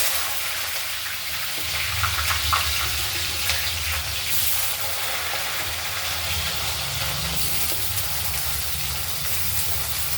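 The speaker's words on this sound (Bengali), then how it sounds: "দেখো আলুটা ভেজে নিচ্ছি" Potatoes frying in a pan give a steady, close, hissing sizzle that runs unbroken for about ten seconds with no talking.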